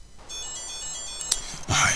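A telephone rings during a Minecraft Technic modpack play session: a steady electronic ringtone of sustained bright tones lasts most of the two seconds, ending with a short breathy burst.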